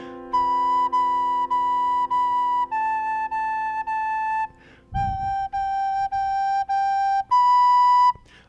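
Recorder playing a phrase of Jolly Old St. Nicholas: clear, close sustained notes in short repeated groups, stepping down then back up, with a brief pause and a soft knock partway through.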